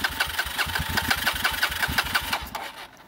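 Suzuki DRZ motorcycle engine, just pulled from being fully submerged, cranking and catching: rapid rhythmic mechanical chugging and knocking pulses, close and fairly loud, fading out near the end.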